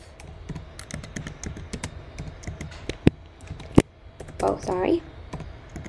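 Steady tapping on a computer keyboard while entering commands into a Python shell, a couple of sharper key strikes standing out, with a person speaking briefly near the end.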